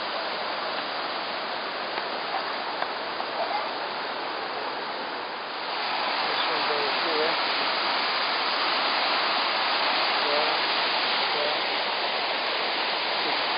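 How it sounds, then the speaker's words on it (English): Krka Falls in Croatia roars as a loud, steady wash of cascading water, with faint voices in the background. "water goes down that waterfall"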